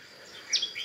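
A caged Japanese white-eye (vành khuyên) gives two or three quick, thin chirps close together, faint against a quiet room with no voices.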